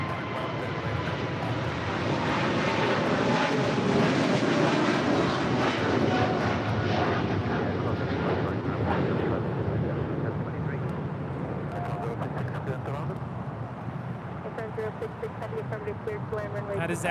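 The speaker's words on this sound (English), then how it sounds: "That is Atlas Air Flight 8133 departing to Seoul on a 747-8 freighter" Atlas Air Boeing 747-8 freighter departing runway 25 Left at LAX, a sustained, loud, broadband jet engine roar that slowly fades, with faint talk underneath.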